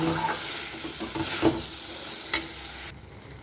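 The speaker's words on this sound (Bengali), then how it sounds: "মটনটাকে দিয়েও কিছুক্ষণ আমি কষিয়ে নেব, যতক্ষণ না কাঁচা গন্ধটা চলে যায়।" Mutton pieces being stir-fried in a pan, a moderate sizzle with a few scraping stirs of the spatula, then the frying cuts off abruptly near the end; no one speaks.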